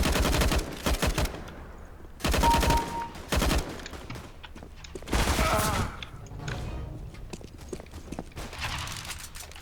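Bursts of CS:GO gunfire crack loudly in several rapid volleys, separated by short lulls with quieter scattered shots and background noise.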